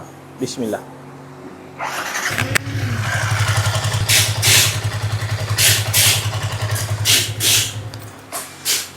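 A Yamaha R15 motorcycle, freshly overhauled, cranks and fires up, then holds a steady buzzing idle with rhythmic throttle blips swelling over it; a voice speaks briefly at the start.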